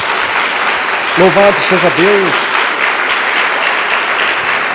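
Loud applause from a church congregation during a worship service, steady clapping throughout while someone briefly speaks over it.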